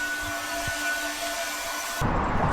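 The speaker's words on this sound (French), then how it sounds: "devoir finir de sécher les vêtements au sèche-cheveux" A steady, loud airy whir of a hair dryer blowing continuously to finish drying clothes, with its tone shifting abruptly near the end as the setting or angle changes.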